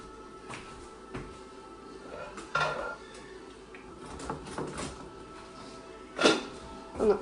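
Kitchen utensils rattle and clatter while someone rummages for a spatula, with scattered knocks and a couple of louder metallic clanks near the end, under faint background talk.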